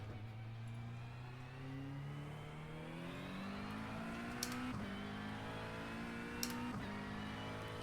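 A McLaren 720S GT3 race car in a driving game revs steadily upward through the gears, its engine note climbing with two quick upshifts, loud and continuous with no talking.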